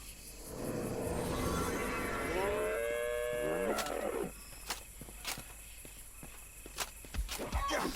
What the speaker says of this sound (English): And there appears to be undead cows in here.